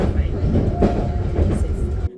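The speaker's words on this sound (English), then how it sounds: "It was a bit out of Paris, so I would have to take the train." A train carries passengers out of Paris toward Versailles, its steady rumble and rhythmic wheel clatter filling the cabin at close range, with faint indistinct voices underneath.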